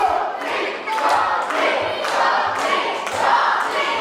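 A wrestling crowd roars steadily behind a Belgian television star, with loud sustained cheering swelling and dipping over four seconds and scattered thuds and claps breaking through the din.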